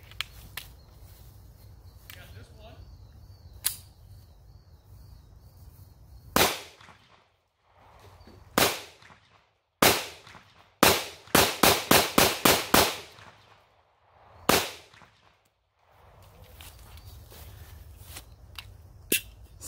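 A Taurus GX4 9mm pistol fires at a range, with sharp, loud cracks in a scattered sequence. A single shot comes first, then a pair, then a rapid string of about six or seven in quick succession and one more shot, with quiet pauses between.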